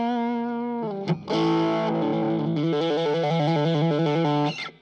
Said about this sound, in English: It sounds like distortion, but overdrive.